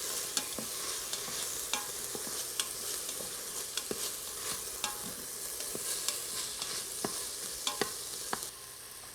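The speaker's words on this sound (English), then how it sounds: "I'm gonna mix it around a little bit more." Black bean chili stirred in a pot, a quiet bubbling simmer broken by frequent sharp scrapes and clicks of a spoon against the pot at an uneven pace, with no talking.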